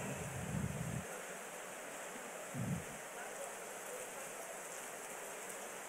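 Heavy rain makes a steady, dense hiss throughout, and a voice speaks briefly under the downpour.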